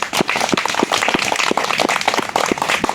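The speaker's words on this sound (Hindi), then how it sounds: "आप सभी को चाहेंगे कि अनुष्का कुमारी के लिए एक बार ताली मार करके सम्मानित करें" Audience clapping for a children's quiz winner, a brisk run of individual sharp claps close by, fairly loud and without talk.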